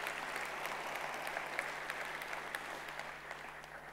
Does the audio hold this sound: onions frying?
no